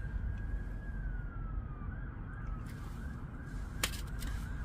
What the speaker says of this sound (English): Loads of police sirens out tonight, isn't it? Can you hear? And ambulance sirens.